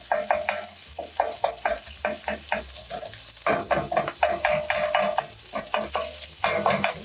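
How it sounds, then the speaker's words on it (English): Italian sausage browning in a frying pan while being broken into smaller crumbles, loud close sizzle punctuated by rapid repeated scraping and tapping of a utensil against the pan. "So now let's start crumbling up the bigger pieces and make them a little smaller"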